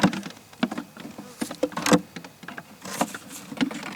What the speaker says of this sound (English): Bees are starting to wake up.